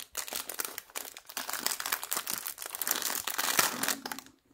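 A plastic pouch of washi tape is opened and handled close up, giving a continuous run of crinkling and rustling with brief pauses, fading out at the end.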